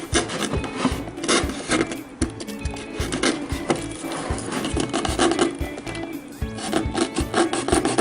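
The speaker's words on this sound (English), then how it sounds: "You can do a sawing action." Repeated rasping strokes of a blade sawing through cardboard, a rhythmic back-and-forth scratching, close and fairly loud, continuing without pause.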